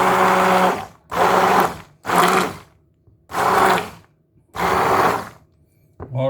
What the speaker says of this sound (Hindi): इसको मैं ग्राइंड कर दूंगा ताकि लहसुन और प्याज और हरी मिर्चें जो इसके अंदर हमने चीज़ें डाली थी वो तमाम यकजा हो जाए